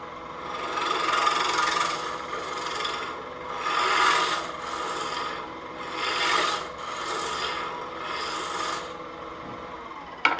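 A tool scrapes against wood spinning on a lathe as the bottom of a small turned wooden snowman is flattened. The close, steady rasping comes in several broad passes that swell and fade, alone without talk.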